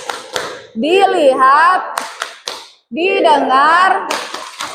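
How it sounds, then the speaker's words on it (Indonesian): A teacher leads a classroom 'tepuk fokus' focus-clapping routine: short bursts of rhythmic hand claps alternate with loud, close chanted speech. "Kita tepuk fokus dulu ya, biar nggak ngantuk ya."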